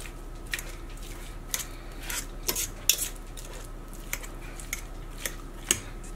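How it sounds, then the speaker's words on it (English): Fork mashing cooked potatoes seasoned with parsley and minced garlic in a bowl, giving scattered close metallic clinks and scrapes against the dish over a soft background hiss, irregular and moderately quiet. "So right now I'm just gonna mash up these potatoes with a fork."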